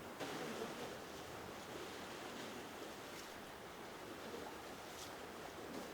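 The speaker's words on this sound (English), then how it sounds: "Do you hear the ocean making sweet sounds?" Ocean surf on the southern coast of Norway washes in as a steady, broad rush of noise, soft and continuous with no distinct breaks, heard alone without talk.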